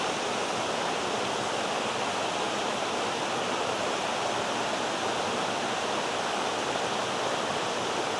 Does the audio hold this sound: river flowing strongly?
yes